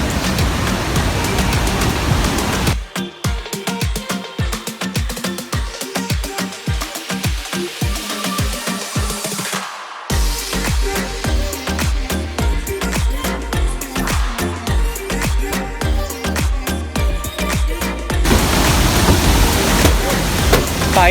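Tegenungan Waterfall in Bali roars as a steady, loud broadband rush at the start and end, while rhythmic music covers much of the middle stretch.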